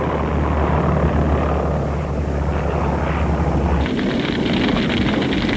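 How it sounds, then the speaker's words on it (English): World War I biplanes fly overhead above a battlefield, a dense roaring drone of propeller engines that stays loud and steady, then shifts to a harsher, brighter wash near the end. "the first fragile biplanes appeared above the smoke of battle"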